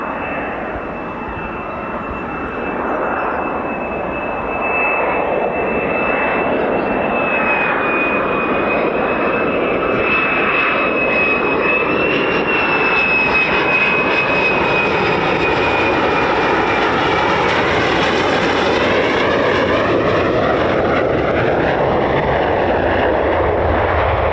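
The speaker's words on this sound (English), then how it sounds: "Even on landings, they just sound so loud." Airliner coming in to land out of mist, its engines roaring loud and steady close by, a high whine riding over the broad rumble as the sound builds and stays strong throughout.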